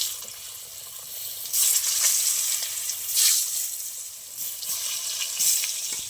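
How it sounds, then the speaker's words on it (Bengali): Potato pieces sizzle in white cooking oil seasoned with a little turmeric and salt, a close, continuous frying hiss that surges in waves as they are stirred. "আর আলুগুলো ভেজে নেব, তাই দিয়ে দিচ্ছি আলু।"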